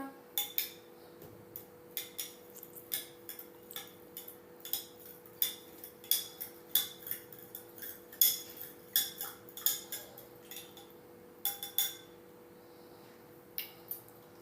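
Spoon stirring lemon shikanji with chaat masala in a glass, a long run of light metallic clinks and taps in irregular bursts, close and quiet over a faint steady hum.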